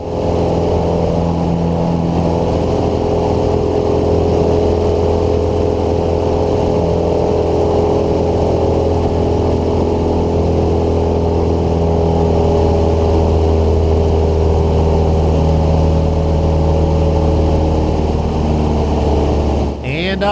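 A light airplane's engine drones steadily inside the cockpit during a traffic-pattern flight, a loud, even hum with stable tonal bands that holds throughout, with a brief dip at the very end.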